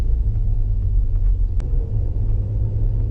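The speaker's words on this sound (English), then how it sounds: "There's a Maserati snarl, which is really great." A 2016 Maserati Levante S engine gives a deep, steady rumbling snarl, loud and close, with a low throaty drone holding evenly throughout and no voices.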